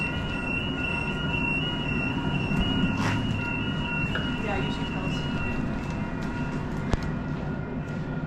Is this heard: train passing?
yes